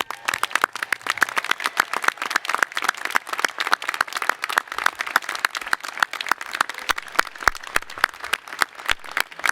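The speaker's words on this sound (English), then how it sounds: "Please stand and let's give them a rousing round of applause." An audience at a university graduation ceremony gives dense, continuous applause for several seconds, heard a little distant, with individual claps crackling throughout.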